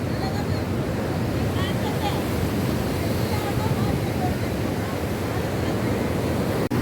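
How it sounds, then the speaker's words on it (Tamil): Rough, aggressive sea waves crash and churn against the shore in a continuous loud roar, with wind buffeting the microphone throughout. "கடல் அலையோட சீற்றம் பயங்கரமாக இருக்குது"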